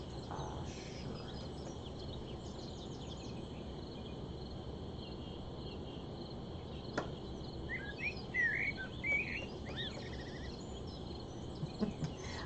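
Bird calls and chirping from a Wingspan board game, soft high chirps and twittering over a faint, steady background hiss, quiet and distant, without talk.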